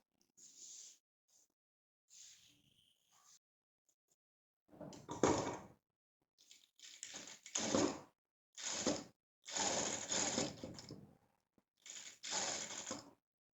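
Sewing machine running standard straight stitches on a pleated skirt, heard as several separate bursts of mechanical whirring and clatter with quiet pauses between runs and no talking.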